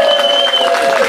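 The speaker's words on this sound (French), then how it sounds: "Est-ce qu'on peut encore ovationner, s'il vous plaît?" Audience applause at a 50th birthday party, a steady dense wash of clapping from a crowd filling the short moment, with a sustained tone running beneath it.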